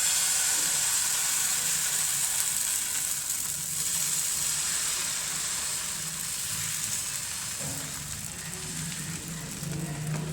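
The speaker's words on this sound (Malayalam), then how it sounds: "ഇപ്പം നമുക്ക് ദോശയുടെ മാവ് ഒഴിച്ചു കൊടുക്കാം കേട്ടോ." Dosa batter sizzles steadily on a hot pan over high heat, a continuous close hiss and crackle that holds fairly even for the whole stretch with no talking.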